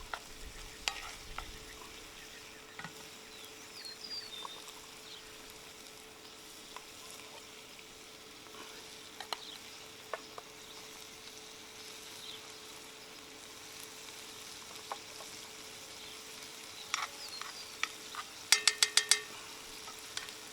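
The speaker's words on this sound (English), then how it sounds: "I'm going to go ahead and mix this up real fast." Cooked meat for Indian tacos sizzles softly and steadily in a pan while a utensil stirs and scrapes through it. A few sharp metallic clinks sound near the end, all fairly quiet and close.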